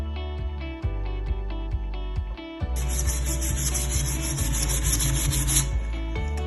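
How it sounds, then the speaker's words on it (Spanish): Sandpaper is rubbed by hand in a dry sanding pass, first in short rhythmic strokes and then in a denser, continuous rasp. The sound is close and clear, with no talking. "En primer lugar tenemos un lijado manual en seco con este tipo de lija."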